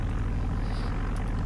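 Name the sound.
Grumman Goose tailwheel plane engine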